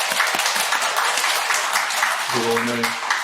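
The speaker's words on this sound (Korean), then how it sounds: "우리 건강하시다고 박수 한번 부탁드리겠습니다." A church congregation at a Sunday worship service breaks into sustained, even applause from many hands in a large room, with a voice briefly speaking over it near the end.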